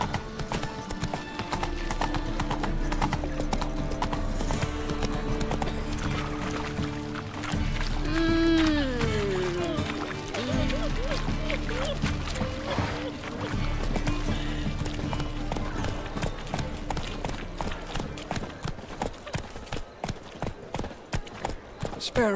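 Horse Roach's hooves clip-clop at a trot in The Witcher 3, a steady rhythmic beat under game music, with a voice speaking briefly over it.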